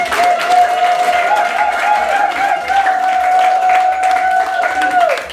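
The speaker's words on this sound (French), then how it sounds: "Encore des applaudissements." Crowd applause at an 80th birthday celebration for a family matriarch, steady clapping throughout with a sustained tonal hum or music underneath and some crowd noise.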